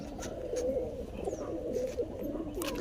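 A tambadi (copper-coloured) pigeon hen, a noted flier from a Nagpur pigeon-racing loft, gives soft low cooing calls at close range, with faint chirps and a steady murmur of surroundings behind.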